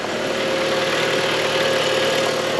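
A car engine idling steadily close up, an even low hum with a faint rhythmic knock underneath, no talking.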